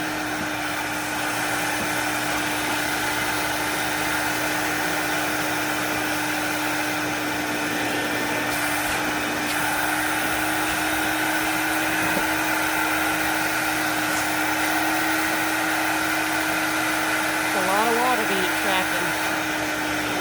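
Steady, loud whooshing drone of a Vapor Clean Desiderio Plus vacuum suctioning dirt from black car upholstery, running continuously and close throughout with a faint tonal hum and brief scraping near the end.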